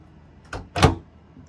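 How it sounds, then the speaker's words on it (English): Door of a Stratasys J55 PolyJet 3D printer being shut: a soft first knock followed by a louder, sharper closing thud, two quick close impacts in a quiet room. "We're going to close the door."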